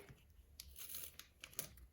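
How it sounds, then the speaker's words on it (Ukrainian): Quick crinkly tearing and rustling of thin plastic, a few sharp rips close by against a quiet background. "Трішки порвався пакетик, ну нічого страшного, я думаю."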